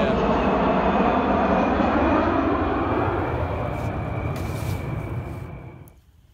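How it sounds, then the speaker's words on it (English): An airplane passes low overhead beside a river near an Air Force Base, a loud broad roar that holds steady, then slowly fades and drops away toward the end. "here comes another plane"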